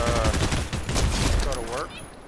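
Enemy gunfire from below in a shooter video game, a burst of rapid machine-gun shots under a person talking, loud and close.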